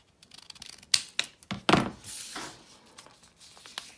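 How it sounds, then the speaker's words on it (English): Scissors snip through a thick folded stack of paper for a 3D Christmas decoration, a few sharp close cuts and crisp rustles spread over several seconds. "So we're going to cut this off."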